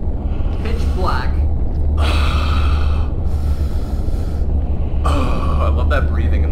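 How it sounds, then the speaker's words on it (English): Creepy, heavy breathing in the horror game SCP 087 sounds in several slow, drawn-out gasping breaths over a constant low droning rumble, loud and close. "I love that breathing in this game."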